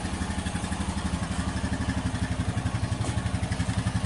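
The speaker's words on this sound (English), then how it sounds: "Got my four-wheeler running." A four-wheeler engine runs steadily with a rapid, even throbbing pulse and some mechanical clatter, close and continuous with no revving.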